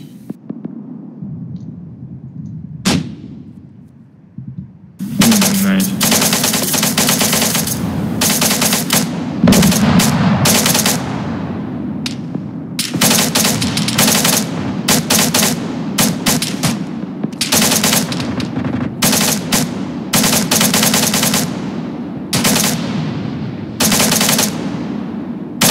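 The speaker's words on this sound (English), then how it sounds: "Red team, fire at will." Suppressing machine gun fire on an outdoor firing range: after a few isolated shots, long sustained bursts of automatic fire ring out loud and close, broken by brief pauses, over a low hum.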